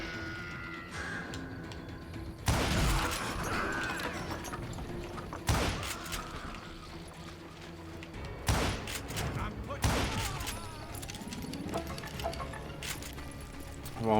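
Gunfire rings out in the Wild West shooter Call of Juarez: Gunslinger, several sharp loud shots spaced a few seconds apart over game music and voice lines.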